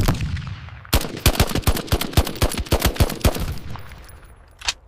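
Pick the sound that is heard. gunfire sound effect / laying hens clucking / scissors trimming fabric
gunfire sound effect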